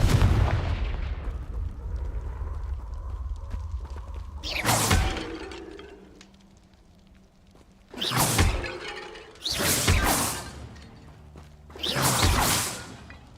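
Confringo fire spell blasts in Hogwarts Legacy: loud, sharp explosive bursts with whooshing tails, one after a rumbling battle opening, then three more in quick succession near the end, with no talk.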